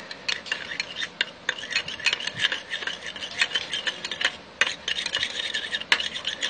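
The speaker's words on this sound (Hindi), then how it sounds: "1 टेबल स्पून योगर्ट में हम 1 लीमू का रस हमने निचोड़ा है, इसे हम मिक्स कर लेंगे" A spoon stirs a tablespoon of yogurt with squeezed lemon juice for a homemade facial, giving a steady close-up scraping and rubbing rattle with brisk irregular strokes throughout, no talking.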